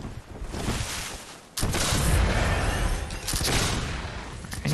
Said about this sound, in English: he's pulling out the rifle again